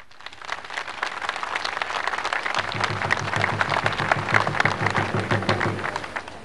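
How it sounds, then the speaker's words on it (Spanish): An outdoor crowd at a drinking-water project handover in Nor Yungas, La Paz, applauds visiting dignitaries with sustained, dense clapping that builds and continues for several seconds, with a low rhythmic hum underneath. "Recibamos en esta oportunidad con un fuerte y caluroso aplauso a nuestros ilustres visitantes"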